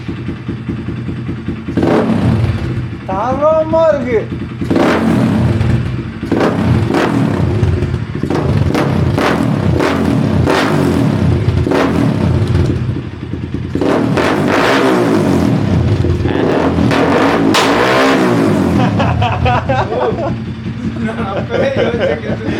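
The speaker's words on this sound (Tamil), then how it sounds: "இப்போ எவல்யூஷன் எக்ஸாஸ்ட் மாட்டியாச்சு." Motorcycle fitted with an Evolution aftermarket exhaust, revved repeatedly in loud bursts with sharp rises and drops in pitch, while people talk and exclaim over it.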